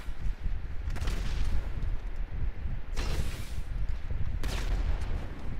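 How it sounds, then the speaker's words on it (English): Video game explosions and gunfire in Grand Theft Auto V, a continuous rumbling barrage with three louder blasts standing out, no talking. "Man, those explosions, they aren't gonna stop, are they?"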